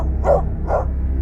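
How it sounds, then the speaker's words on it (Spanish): A dog barks twice in the distance over a steady low rumble of background noise, two short, muffled barks a fraction of a second apart. "Siempre había un perro ladrando en la distancia."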